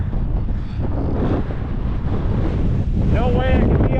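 Strong wind outdoors on a mountain, roaring continuously and buffeting the microphone with loud low rumble throughout, while a voice speaks briefly near the end.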